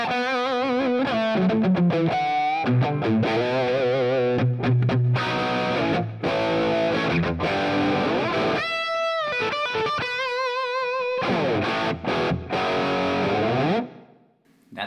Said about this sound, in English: Let's take the green OD, so a tube screamer style pedal.